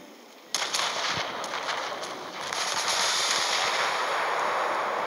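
Ship cannon fire during a naval battle in the sailing game King of Sails, a sharp blast followed by a dense, continuous roar of booming shots and crackling gunfire that swells louder midway, with no talk.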